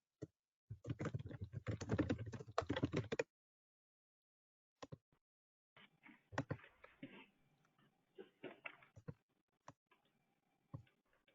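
Rapid clicking of keys on a computer keyboard during a committee meeting vote, a dense burst of typing followed by scattered, sparser keystrokes, close and clear with no talking.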